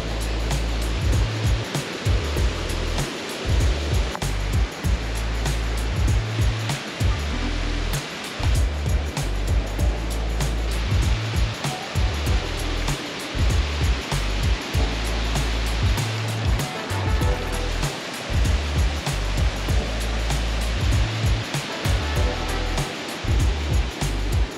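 Halls Falls waterfall near St. Helen's pours continuously in a loud, broad roar, pulsing with low thumps as though the microphone is buffeted nearby.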